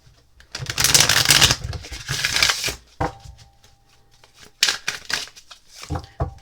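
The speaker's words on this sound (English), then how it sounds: "So let's just give this a good shuffle." A tarot deck is shuffled by hand, with a long riffling burst of close, crisp card flutter, a pause with small taps, then two shorter shuffling bursts.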